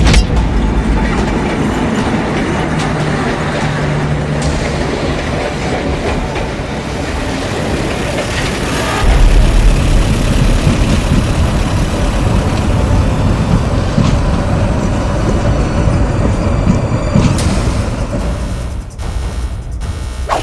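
An electric commuter train (KRL) runs along a double track in an animation, giving a steady loud rumbling roll with rattling wheels that swells into a brief heavier surge partway through.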